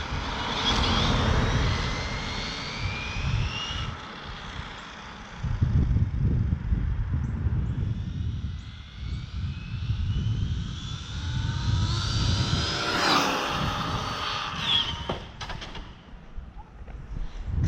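An Arrma Infraction RC car on a speed run, a high motor whine rising and falling as it passes, with a loud rumbling rush of wind or tires underneath, swelling twice in long passes.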